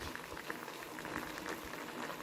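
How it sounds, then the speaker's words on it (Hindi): Banana jam with honey bubbling and simmering in a pan as it cooks down, a steady close bubbling and spattering that carries on without a break. "मैं इसी तरीके से चम्मच हिला रही हूँ और इसको पका रही हूँ।"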